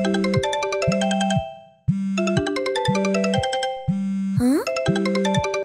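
A mobile phone rings for an incoming call. A bright, electronic melodic ringtone repeats in loud, regular cycles with a steady low pulse beneath, and one rising boing-like sweep appears partway through.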